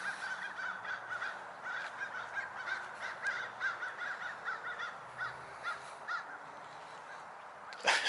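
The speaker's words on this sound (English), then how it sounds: "And you can hear the birds again." Crows cawing repeatedly in the distance in a cemetery beside a high-traffic main road, a steady series of hoarse calls over faint outdoor background noise, with a brief bump near the end.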